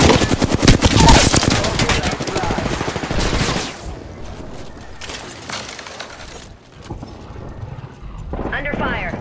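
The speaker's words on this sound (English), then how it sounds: "I am taking fire." Gunfire in the Apex Legends battle royale shooter comes as rapid bursts, loud at first and then fading into sparser shots, while game voice lines speak over the action.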